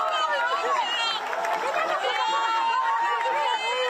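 A crowd greets a released hostage returning to Israel, a dense wash of cheering and excited voices, loud and continuous with shouts rising over the throng throughout.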